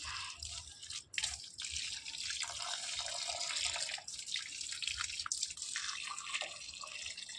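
Water trickles and drips continuously nearby, a splashy, steady stream with irregular droplet patter.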